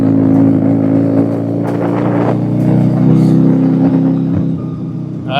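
A rotary-engined car idling loudly up close with a rough, steady drone, revving briefly and then easing off toward the end as fuel starts getting through; no talking.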